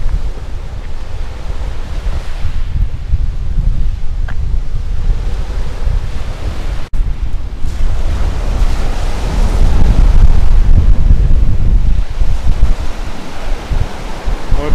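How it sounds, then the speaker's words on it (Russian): Strong wind buffets the microphone as Black Sea waves wash onto a pebble-and-sand beach at Alushta, a continuous loud roar of surf swelling and easing, with no talk. "Но ветрено, ветер прохладный. А море какое, великолепное просто море."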